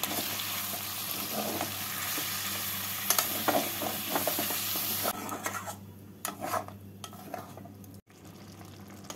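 Chicken in hariyali murg masala with coriander and green chilli paste is stirred in a sizzling pan, with steady frying hiss, scraping, and occasional clinks of the spoon against the pan.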